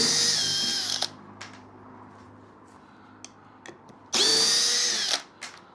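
A cheap Dongcheng brushless drill driver spins up in two short bursts of whining motor noise, each about a second long, separated by quiet handling clicks.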